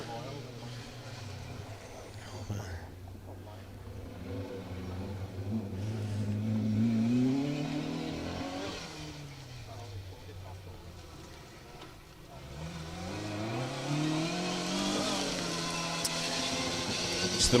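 A Mark II Escort rally car engine revs and rises in pitch several times in waves, moving nearer and louder toward the end, with a commentator talking over it.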